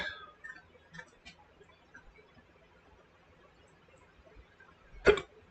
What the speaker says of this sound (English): Man, you want to talk about the hiccups. I got it bad.